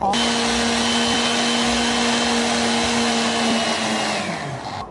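A blender purees mushrooms for cream of mushroom soup with a loud, steady motor whine held for several seconds, easing off slightly near the end, close and alone.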